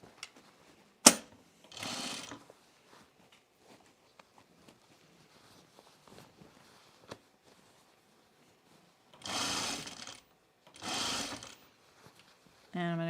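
A home sewing machine stitches a pullover camp dress in short separate bursts, with a sharp clack near the start and quiet handling noises between runs.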